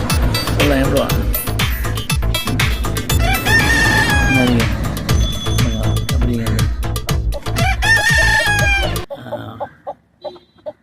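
Native country chickens cluck and a rooster crows amid loud, busy background noise and voices at a chicken sale. Near the end it suddenly drops to sparse, quieter sounds.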